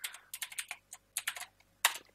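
Someone types a command for a Minecraft server on a computer keyboard, giving a close run of quick, uneven key clicks in short bursts with brief pauses, ending on a sharper keystroke.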